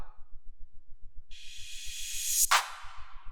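A bright, reverberant clap sample hits once over a steady kick-drum pulse in an Afrobeat production, preceded by a rising noisy swell that peaks right before the hit and decays into a washy tail.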